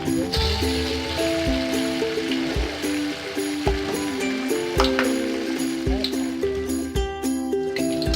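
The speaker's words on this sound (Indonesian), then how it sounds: "Digoreng hingga berwarna kecoklatan." Tofu balls deep-frying in hot oil, a dense crackling sizzle with sharp pops and spatters throughout, close and fairly loud with no talk.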